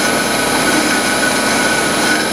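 A 1602 metal lathe cuts steel with a Chinese carbide insert on a return pass, giving a steady, loud machining whine and hiss with constant tonal hum throughout, no voices.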